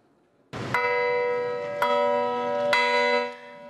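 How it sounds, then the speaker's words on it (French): Three bronze church bells from Normandy ring in Mosul. Loud, clear strikes come at about one-second intervals, each one leaving a long, sustained humming resonance that overlaps the next. "3 cloches de bronze venues tout droit de Normandie ont sonné"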